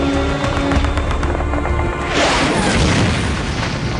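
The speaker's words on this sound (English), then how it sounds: "Artillery strikes are called in." Artillery strikes explode in a Battle of Okinawa war scene, a loud continuous rumble of booming blasts with a heavier burst swelling up midway and rolling on to the end.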